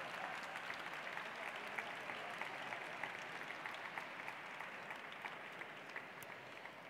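Faint, steady applause from a large audience at a graduation ceremony, a dense even patter of many hands sustained throughout with no talk over it.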